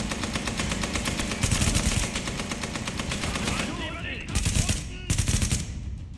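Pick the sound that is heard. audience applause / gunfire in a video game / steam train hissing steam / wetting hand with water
gunfire in a video game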